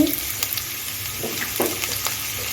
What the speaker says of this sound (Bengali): তিরিশ সেকেন্ডের মতো একটু ভেজে নিচ্ছি